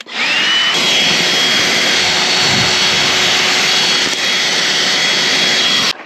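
A handheld dust buster vacuum runs steadily while sucking up scraped material from bedrock in an abandoned gold mine, giving a loud, continuous high-pitched whine and roar that holds for the whole stretch, with no talking.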